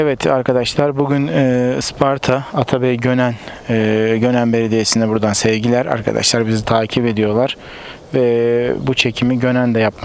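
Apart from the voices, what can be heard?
No everyday noise stands out behind the speech.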